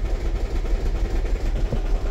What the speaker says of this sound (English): but the engine is rattling